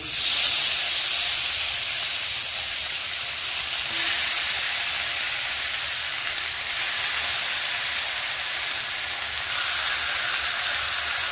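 Marinated chicken for tandoori chicken frying in a spoonful of oil in a kadai, a loud, continuous hissing sizzle with steam, constant and close throughout, with no voices.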